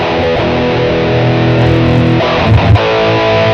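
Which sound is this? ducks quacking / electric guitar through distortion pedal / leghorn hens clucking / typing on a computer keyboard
electric guitar through distortion pedal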